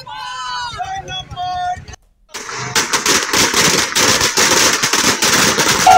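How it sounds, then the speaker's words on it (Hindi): Firecrackers set off at a street celebration in the Jhanda Chowk market in Kotdwar, a loud, rapid crackling string of bangs following a voice speaking, continuing densely to the end. "कार्यकर्ताओं ने जश्न मनाया और पटाखे फोड़े"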